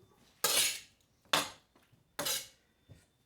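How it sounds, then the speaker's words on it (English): Pasta tossed with utensils in a dish for pasta with greens: three loud scraping, clattering mixing strokes spaced about a second apart, then a small fourth clink, close and with no talk. "And then you mix the pasta really well, like that."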